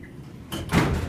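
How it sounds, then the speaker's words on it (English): A library elevator door, part of a Dover impulse traction elevator, is slammed shut by hand, a quick sliding rush followed by a heavier thud about a quarter second later, close and fairly loud. "I'm going to try to slam the door."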